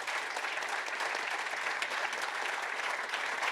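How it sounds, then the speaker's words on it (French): Audience applause at an annual award ceremony, a dense, even clapping of many hands sustained at moderate volume for a few seconds without speech. "Qu'on peut applaudir."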